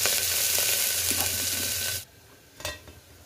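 Onions sizzle loudly in a hot pan for about two seconds, then the frying sound cuts off, followed by a brief clatter in the quiet kitchen.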